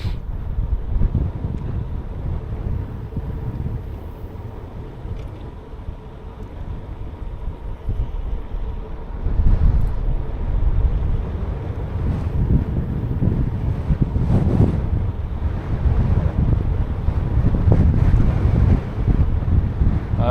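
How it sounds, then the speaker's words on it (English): Strong headwind roars across the microphone as a bicycle rides fast downhill at about 50 km/h on a Finnish road, a continuous loud rushing that swells and gusts, with no talking. "There is a little headwind."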